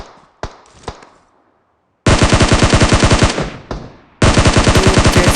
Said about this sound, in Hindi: मेरे को उधर से बोट की फायरिंग आई।